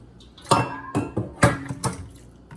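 Hot water poured into a pot of palm butter for West African palm butter soup, heard as several separate splashing, clattering bursts at an irregular pace, close by, with no talking.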